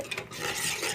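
A spoon stirs chana masala gravy in a pan in a short stretch of steady, close scraping and swishing, with a faint sizzle underneath.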